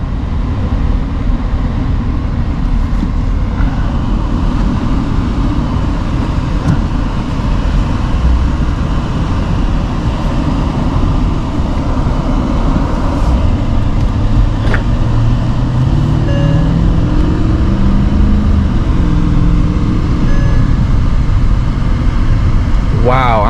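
A Mercedes-Benz S550 cruising smoothly, with a steady low road rumble and tire hum that holds constant throughout, and a faint rising engine note near the end; people talk over it at times.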